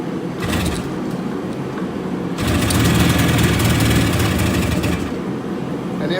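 Yamaha RD350 two-stroke motorcycle engine running on choke, a steady buzzing drone close by that grows louder and rougher midway, then eases slightly near the end, with no talk.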